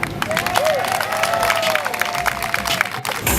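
Audience applause and some cheering welcoming a CEO onstage at an Atlanta Housing Authority picnic celebration, a steady dense wash of clapping with a few voices rising over it.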